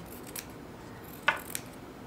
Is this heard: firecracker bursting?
no